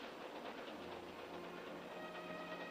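A train rolls along the rails with a steady, low rumble and faint rhythmic rattling, heard alone at moderate distance.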